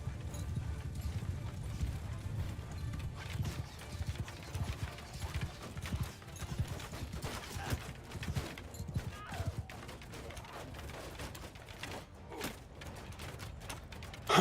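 Horse archers' mounts trot in the video game Bannerlord, a steady muffled clip-clop of many hooves that continues at low level throughout with faint mechanical clatter.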